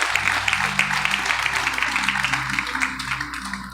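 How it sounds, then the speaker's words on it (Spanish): A church congregation applauds during a Spanish-language service on gifts of the Holy Spirit, scattered clapping over sustained keyboard or organ tones, moderately loud with a few sharper claps standing out. "¿Cuántos dan ese aplauso bien fuerte al Señor?"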